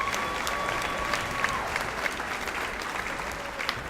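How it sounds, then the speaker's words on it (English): Applause from an awards-show audience, a continuous crowd of clapping hands heard from a slight distance, steady and fairly loud with a few sharper individual claps poking through. "One more time, let's give a round of applause for Mr."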